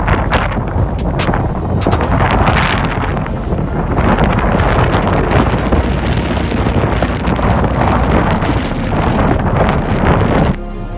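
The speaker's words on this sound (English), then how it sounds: "The wind is starting to kick up now." Strong wind from Hurricane Milton in Florida roars against the microphone in loud, continuous gusts for about ten seconds, then drops off abruptly at the end. No one speaks.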